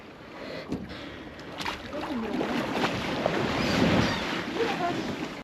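Sea waves slap and wash against the hull of a sailboat drifting in the Grenadines, a steady near splashing mixed with wind noise that swells and fades.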